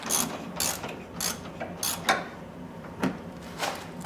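A ratchet wrench tightens a rear shock bolt on a 1998 Dodge Durango, using a 15 mm socket on an extension. Close, crisp bursts of ratcheting clicks come in quick, uneven strokes with short pauses between them.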